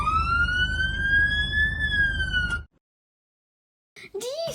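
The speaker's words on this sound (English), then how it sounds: "now I can use my sirens as well." A fire engine's siren wails loudly up close with a rising tone, cuts off abruptly into silence, then briefly starts again near the end.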